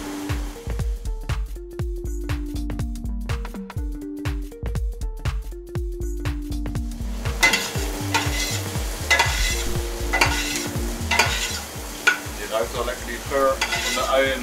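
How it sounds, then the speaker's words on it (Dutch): Vegetables sizzling in a pan for nettle soup, a continuous frying crackle with repeated tonal knocks and clatters of stirring early on, later a denser hiss. "Dat lijkt lekker bakken."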